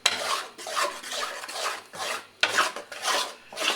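A spoon stirring and scraping besan (gram flour) as it roasts in a pan for katli halwa, repeated rhythmic rasping strokes, close and fairly quiet.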